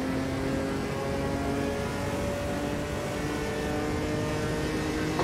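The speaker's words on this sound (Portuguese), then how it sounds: "Tem que tomar cuidado com o giro alto com esse carro." An Opala old stock car engine in the Automobilista 2 racing game, howling steadily at high revs along the long straight at Jacarepaguá, a loud continuous drone with sustained tonal harmonics and no talk.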